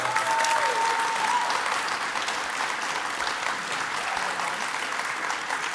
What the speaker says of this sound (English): Y'all give them another round of applause for being here